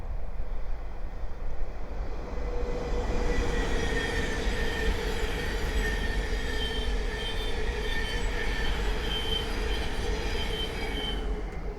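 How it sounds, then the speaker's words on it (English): A Thameslink Class 700 electric train rolls past steadily for the whole stretch, with a loud continuous rumble and high metallic wheel squeal riding over it, no voices. "the next train to pass by is a Thameslink 700 from Peterborough to Horsham."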